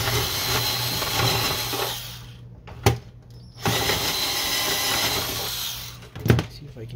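A power screwdriver whirs continuously while removing a screw from the scanner unit of a Canon Pixma MG5520 printer, broken by a pause and two sharp clicks.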